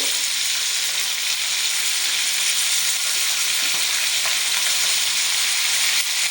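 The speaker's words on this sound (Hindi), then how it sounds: "तो इसलिए आपने तेज़ आंच पे ही चिकन को पकाना है।" Chicken pieces fry on high flame for black pepper chicken, producing a loud, dense, unbroken hissing sizzle close up, with occasional faint crackles.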